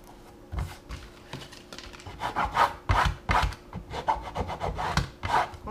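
Vinyl backing is scraped across a painted canvas with a series of quick, rough rubbing strokes, close and fairly loud, in an uneven rhythm of short bursts.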